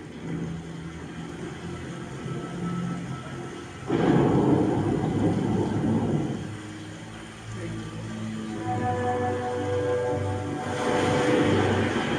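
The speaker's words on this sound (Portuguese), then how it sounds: "Há 24 horas de chuva no Rio de Janeiro." Heavy rain and thunder from a storm in Rio de Janeiro, captured in news footage, roar as a steady wash of noise with a louder rumbling swell partway through.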